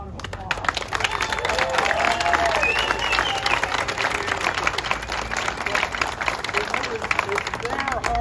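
Audience at a Pontiac Fiero 40th anniversary celebration in Pontiac breaks into sustained applause, dense clapping with some crowd murmur and cheering throughout.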